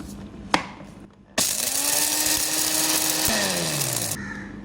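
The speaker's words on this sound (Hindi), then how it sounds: "इसको मैं पीस लूँगी चॉपर में।" An electric chopper grinds homemade korma masala spices for beef korma. After a brief tap it starts abruptly into a loud steady whirring grind, dips in pitch near the end and then stops.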